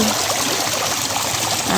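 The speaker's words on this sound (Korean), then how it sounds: "흐르는 물소리." Stream water flows steadily through the countryside in Hongcheon, Gangwon-do, a loud, continuous trickling rush heard close up with no breaks.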